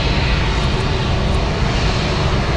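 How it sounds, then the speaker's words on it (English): A brand-new Boeing 787-8 jet airliner flies a display at an airshow, a steady, loud, broadband jet engine roar that holds constant throughout with no talking. "Bibbins, brand new 787-8, looking fantastic, looking so clean, and what a display that was"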